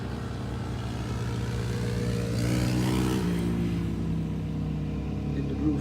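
A Kawasaki Brute Force ATV riding slowly past, its engine a steady loud drone that shifts pitch midway as it goes by, fairly close.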